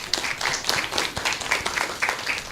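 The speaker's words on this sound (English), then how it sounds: "give a round of applause to our debaters" Audience applause for student debaters at a school debate event, dense clapping from a crowd, fairly loud and continuous, with no talking over it.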